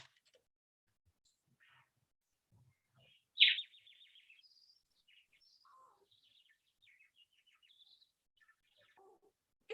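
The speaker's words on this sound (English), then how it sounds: "Let me hear some chirping birds and take in some refreshing flowers." Birds chirp faintly in a staged solo school performance, one brighter trill standing out amid sparse, scattered tweets over otherwise near silence.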